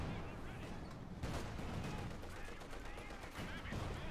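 Gunfire crackles continuously around Puma armoured cars in a Company of Heroes 2 battle, a dense loud mix of small-arms bursts and rattling shots running throughout, with a commentator talking over it.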